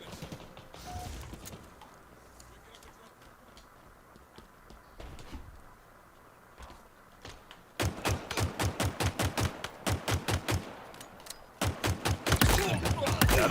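Gunfire in the video game Halo Infinite, quiet muffled ambience at first, then rapid bursts of automatic weapon fire in close, loud, evenly spaced volleys with a brief pause before a final flurry.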